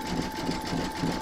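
An embroidery sewing machine satin stitching around the vamp of an in-the-hoop vintage witch's boot, a fast, even, whirring needle rhythm up close that stops abruptly at the end.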